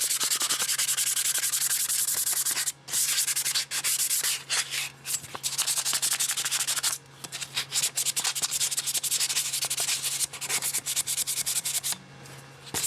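Abrasive scuffing on a Honda Grom skid plate ahead of painting, a steady close rasping rub that runs almost continuously for about thirteen seconds with a few short pauses, no voices.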